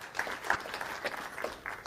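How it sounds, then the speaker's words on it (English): A small audience claps briefly and quietly in a room, with scattered, uneven claps rather than a full ovation. "go ahead and clap."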